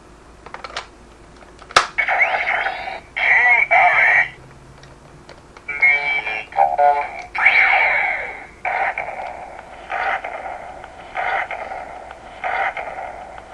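Short synthesized bursts from a Kamen Rider Fourze toy transformation belt pulse in an uneven rhythm, each a buzzy, mid-heavy electronic bass tone. A sharp click sounds early on, and no voices are heard.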